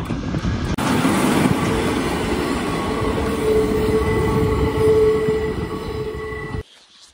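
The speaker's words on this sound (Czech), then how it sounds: "A já jenom doufám, že pojede starý vláček a ne žádná regionová" An old train passes close by on a railway track near Tábor in the Czech Republic, a loud sustained roar of wheels and carriages with a metallic squealing whine, ending abruptly as the last car clears.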